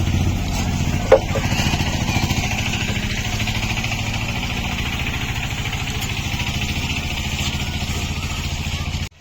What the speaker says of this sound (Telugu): సాయిబాబా ఆటో పోతుంది